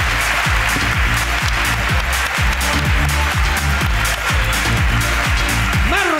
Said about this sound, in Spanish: Un aplauso para Marco Antonio.